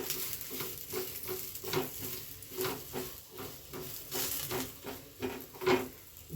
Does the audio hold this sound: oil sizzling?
yes